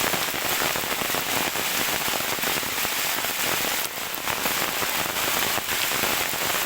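Steady, heavy monsoon rain pours down nonstop in Kerala, a dense hiss of drops striking surfaces close by, with no voices.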